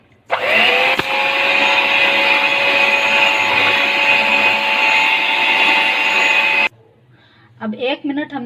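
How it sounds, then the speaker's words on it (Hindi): A handheld electric beater whirs steadily for several seconds, a loud continuous motor whine churning cake rusk batter at home on the stove-baking setup, then cuts off abruptly and a voice speaks briefly afterward. "अब 1 मिनट हमने इसको बीट कर लिया।"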